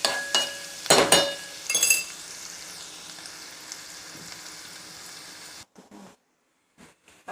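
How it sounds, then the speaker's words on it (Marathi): Chopped onion and crushed garlic fry in a pan with a steady bright sizzle, while clinks and stirring clatter come early on. The sizzle cuts off near the end, leaving a few faint knocks. "आता यामध्ये आपण कांदा आणि लसूण भाजून झालं"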